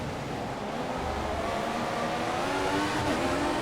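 An F1 car engine in the racing game F1 2014 drones continuously at high revs, a steady buzzing whine that rises slightly in pitch, heard alone without talk.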